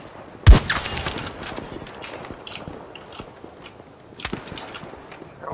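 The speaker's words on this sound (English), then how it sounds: "they turn around and start shooting at me. Somebody's shooting me." Gunfire in the shooter game Battlefield 2042: one sharp, loud shot near the start, then scattered softer distant shots and footstep-like clatter. A second burst follows near the end. No talking.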